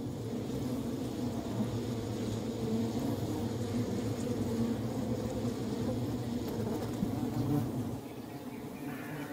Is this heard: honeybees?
yes